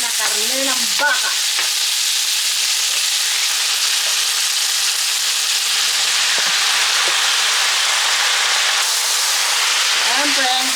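Ground beef sizzles loudly in a pan with onions for Filipino-style spaghetti, a steady, close, hissing fry that runs throughout, with a voice speaking briefly at the start and again near the end.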